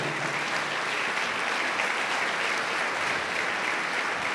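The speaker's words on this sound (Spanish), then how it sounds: "Dale un aplauso a la gloria de Dios." A church congregation applauds in praise, steady dense clapping from many hands filling the room continuously without pause.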